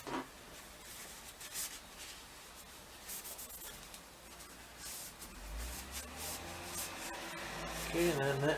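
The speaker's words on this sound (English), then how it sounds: "I like to brush it out and then wipe it out with a rag" Scrubbing and wiping inside the barrel of a Tristar 12 gauge semi-auto shotgun, a steady close rasping rub with brief brushy swells and a louder scraping pass near the end.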